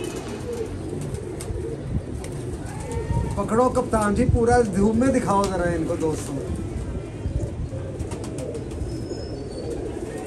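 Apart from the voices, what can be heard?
pigeons cooing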